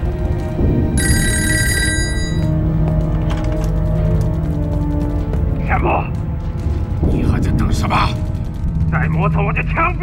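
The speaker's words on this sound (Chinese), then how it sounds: "连队长命令你马上去接电话" An old telephone rings with a bright electric bell in a wartime kung fu film scene, a short burst early on, followed by tonal bursts and rumbling effects over a steady low background.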